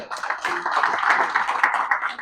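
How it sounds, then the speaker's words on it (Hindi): An audience claps at a startup talk, a short burst of dense, steady clapping from many hands nearby, with some chatter mixed in. "पहले मैं चाहूंगा कि इनके लिए एक जोरदार तालियां।"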